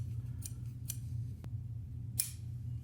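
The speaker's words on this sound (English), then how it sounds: "little snips seem to work better than the big ones" Small snips cutting sheepskin leather, giving four or five sharp, crisp snips at irregular intervals over a low steady hum, fairly close and distinct.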